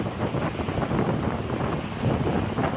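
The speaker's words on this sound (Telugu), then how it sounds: "ఇంకా మేఘాలు పట్టున్నాయి, గాలి వేస్తుంది, వర్షం పడట్లేదు." Strong wind blowing steadily under cloudy skies before rain, a dense continuous rushing roar buffeting the microphone with no voices.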